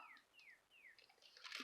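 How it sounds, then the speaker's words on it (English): Birds singing outside at a country home: a few faint, thin descending chirps spaced apart, then a rise of soft hissy noise at the end. "hear the birds outside singing?"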